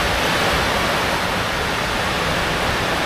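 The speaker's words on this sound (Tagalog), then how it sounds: "Ang lakas ng hangin." A steady, loud roar of strong wind blowing without pause, a broad rushing noise that never lets up.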